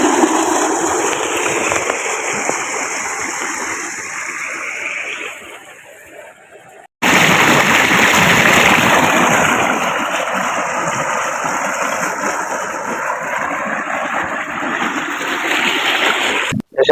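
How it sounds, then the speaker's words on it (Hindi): Water from a tubewell gushes steadily into a chilli field for irrigation, a loud continuous rushing and splashing that briefly drops, cuts out, then resumes just as strong. "यहाँ पे आबपाशी खेतों को पानी ट्यूबवेल से लगाया जाता है"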